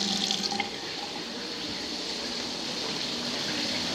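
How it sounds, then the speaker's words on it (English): Water running steadily from household faucets during a plumbing inspection of a North Texas home, a constant close rushing flow into a sink, even and unbroken throughout. "I'm supposed to run multiple faucets at a time and for the water flow"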